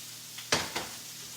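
Salmon searing in hot oil in a pan gives a faint background sizzle broken by a couple of short, bright bursts of spitting and clatter close by.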